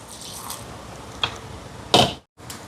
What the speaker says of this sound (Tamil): தண்ணி சேர்த்து இதை அரைச்சி எடுப்போம்.